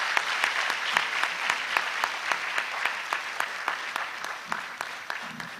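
Audience applause at a formal induction ceremony: sustained, dense clapping from a crowd at steady level for the whole stretch, with sharp individual claps standing out, no voices over it.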